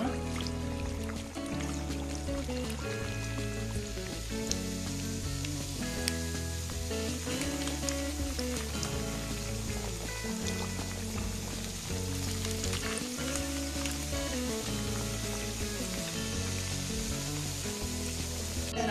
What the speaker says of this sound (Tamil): எண்ணெய் நல்லா காஞ்சிருச்சு, நம்ம தட்டி வச்ச தட்டை ஒவ்வொன்னா எடுத்து போட்டுக்கலாம்.